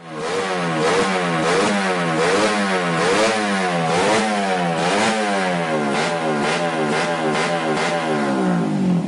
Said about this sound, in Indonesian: SKR tuh suara knalpot racing